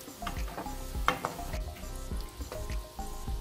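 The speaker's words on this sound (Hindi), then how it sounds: "देखिए चीज बॉल्स फ्राई हो रहे हैं" Eggplant cheese balls deep-fry in oil with a soft bubbling sizzle, broken by several clinks and taps of a utensil against the pan.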